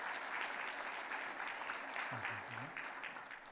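Church congregation applauds in encouragement during a Sunday worship service, a sustained, even patter of many hands filling the room, with a voice speaking briefly over it near the end.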